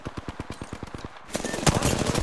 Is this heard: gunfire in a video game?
yes